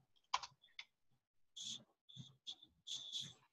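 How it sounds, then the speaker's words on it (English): Typing on a computer keyboard, heard as scattered, close clicking key taps in short bursts with brief pauses between them, with no talking. "I'm typing out my answer right now"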